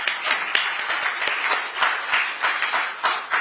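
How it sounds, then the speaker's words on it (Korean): A political party event crowd applauds together, a dense patter of many hands clapping steadily at moderate distance with no voices over it. "다시 한번 박수 부탁드립니다."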